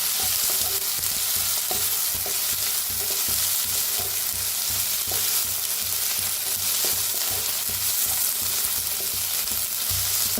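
Crushed garlic and green chili roasting in a pan for vangyache bharit, a dense steady sizzle with scattered stirring clicks and scrapes throughout, close and continuous with no talking.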